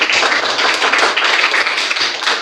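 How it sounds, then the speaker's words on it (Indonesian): Classroom of students clapping for their classmates, a dense, steady burst of many hands close by, loud and continuous throughout with no talk over it. "Oke, tepuk tangan untuk teman-teman kita."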